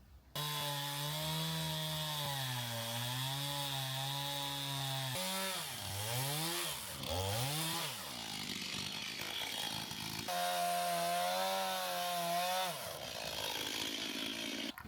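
Wooden boards are cut with a chainsaw for the steps of an off-grid cabin in spring, a continuous buzzing engine whose pitch rises and dips as the blade bites into the wood.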